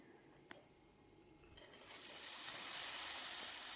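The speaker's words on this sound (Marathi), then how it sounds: "आता मसाले चांगले परतले की यामध्ये भिजून ठेवलेले हरभरे ते घालायचे" Soaked chickpeas go into a pan of spices already frying, and a quiet background suddenly swells into a steady, hissing sizzle that continues to the end.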